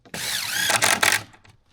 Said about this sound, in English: I'll bring my drill with me